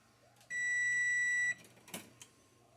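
A kitchen oven gives one long, steady electronic beep lasting about a second, followed by faint clatter and quiet kitchen noise.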